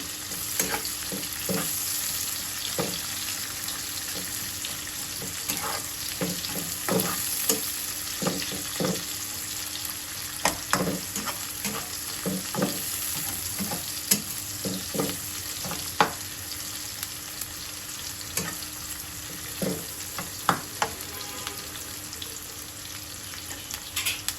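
Onions frying in oil for chepa shutki bhorta, a steady close sizzle with frequent sharp crackles and spatters popping throughout, no voices.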